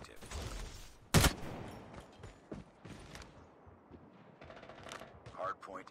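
Gunfire in the Call of Duty Mobile video game, with one loud sharp burst of shots standing out early and lighter game clatter and effects scattered around it, while a player talks over the action throughout.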